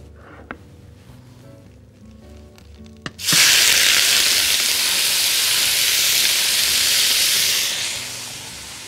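Beef hits a very hot wok greased with oil, ghee or butter. A few light clinks come first, then a sudden loud, sustained hissing sizzle that holds steady and eases slightly near the end.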